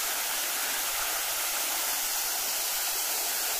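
A waterfall in Tokushima, Japan: a constant, dense rush of falling water that fills the scene as a steady roaring hiss without breaks, with no voices over it.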